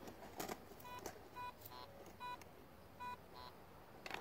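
A metal detector emits a series of short electronic beeps at varying pitches, spaced irregularly over a faint background hiss.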